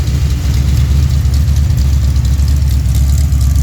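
A Pontiac 428 V8 with three two-barrel carburetors idles loud and close at roughly 900 RPM, a deep steady rumble with a slightly lumpy pulse and no talking over it.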